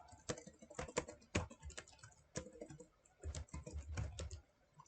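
Typing on a computer keyboard, quick irregular key clicks and taps in short bursts, close up and quiet.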